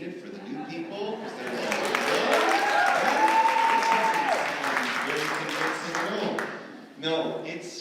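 Audience applause from a gathered crowd at a Christmas-themed spiritual talk, a steady wash of clapping that swells and holds for several seconds, with a voice speaking over it and a brief burst near the end.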